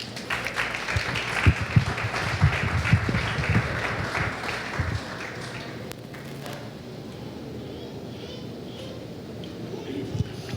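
A church congregation applauding Jesus during a sermon, a crowd of clapping hands building for about five seconds before fading into quieter room noise and murmuring.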